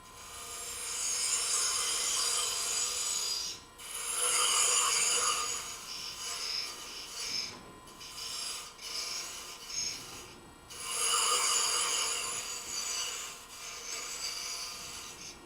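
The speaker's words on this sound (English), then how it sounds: "I'll come back and take out the middle with a bowl gouge" A bowl gouge hollows wood on a lathe while turning a lantern, making a steady, close rasping scrape that runs almost continuously with a few brief pauses, with no talk.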